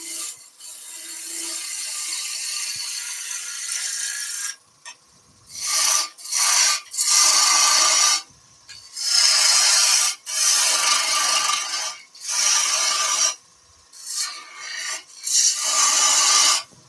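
Wood being roughed out on a lathe with a gouge gives bursts of loud, close rasping and scraping, separated by short pauses as the tool is lifted away and repositioned.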